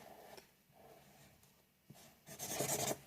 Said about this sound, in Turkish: Şu an bir şey çiziyorum.